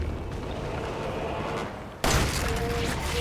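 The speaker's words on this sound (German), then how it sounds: "Ein Schuss." A loud gunshot booms abruptly in the survival horror video game Resident Evil 7, cutting sharply over steady game ambience and followed by a sustained bright ringing tail.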